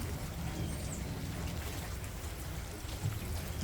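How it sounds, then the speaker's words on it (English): Water is poured over rooting sweet potato slips, a steady close pouring and trickling wash that runs continuously for several seconds with no talk. "let's add some more water"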